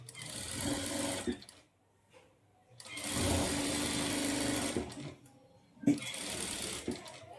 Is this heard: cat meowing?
no